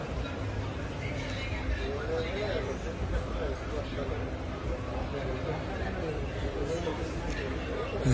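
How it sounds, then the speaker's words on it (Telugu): Crowd chatter fills Nalgonda railway station, an indistinct babble of many voices at moderate level with a low rumble beneath, continuous throughout. "ఇక్కడ ఉన్నది కొంచెం క్రౌడ్"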